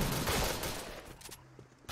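Gunfire in the Point Blank video game: a dense, sustained burst of rapid shots filling the first second, then fading into quieter scattered game sounds.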